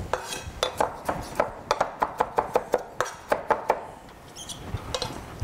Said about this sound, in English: We're gonna rough chop it.